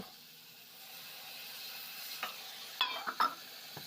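Carrots, peppers and green chili frying in a pan, a soft steady sizzle with a few clear clinks and scrapes of a utensil stirring near the end, no voices.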